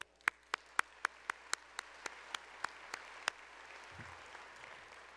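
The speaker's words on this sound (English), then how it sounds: "Please give them a round of applause" At a regional chamber of commerce annual meeting, a dozen sharp, evenly spaced claps ring out over a quiet room, sounding like a single close pair of hands rather than broad crowd applause, then fading into low background noise.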